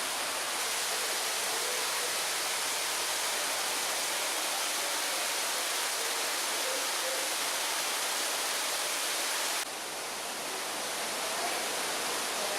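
A waterfall in Watkins Glen State Park pours in a dense, steady, broadband rush that fills the scene with constant roaring noise and no gaps.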